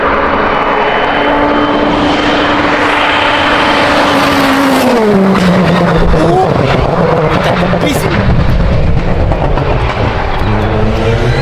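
A rally car at the Rallye d'Antibes, an FIA European Rally Championship event, brakes hard as its loud engine note drops sharply before accelerating away, heard close by with spectators talking excitedly over it.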